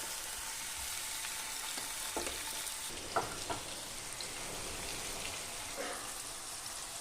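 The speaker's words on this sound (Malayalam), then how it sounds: "ഇനി നമുക്ക് നല്ലോണം ഫ്രൈ ചെയ്തെടുക്കാം സോസേജ് ഫ്രൈ ആയിട്ട് വന്നിട്ടുണ്ട്" Sausage pieces frying in hot oil in a pan at home, a quiet, continuous sizzle broken by a few small pops and light stirring knocks.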